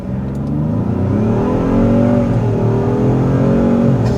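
A 2024 Ford F-150 Platinum Plus pickup pulls away from a stop, its engine note rising steadily under throttle, heard from inside the cab as a loud, smooth climbing hum with no talking.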